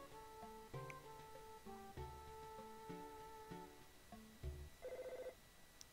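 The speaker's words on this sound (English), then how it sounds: "Oh hey, my phone is a-ringing." A phone rings in the video game EarthBound, a chiptune-style electronic jingle of stepped bright tones that repeats with pauses, ending in a rapid trilling burst, alone and at low level.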